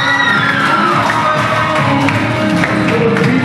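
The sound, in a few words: audience applause for the principal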